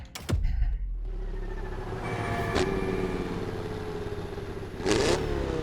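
A swapped car engine revving in the racing game The Crew Motorfest: a loud, sustained, buzzing engine drone with sharper rev surges near the start and again near the end.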